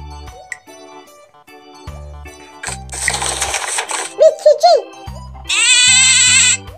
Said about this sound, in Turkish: Bu koyun. Ya da buna kuzu da diyebiliriz.